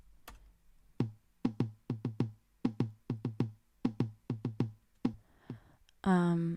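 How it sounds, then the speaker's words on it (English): Short plucked notes repeat in quick groups, each followed by a single fainter echo, close and clear, ending in a brighter sustained chord. "we have just a single echo here."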